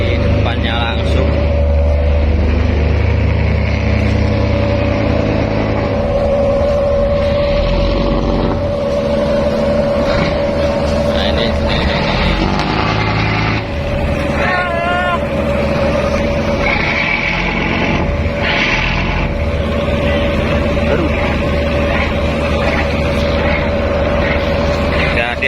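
A Jakalang fishing net boat docks in a harbor, its engine droning loud and steady at close range for the whole stretch, with wind, water and a faint high squeak mixed in.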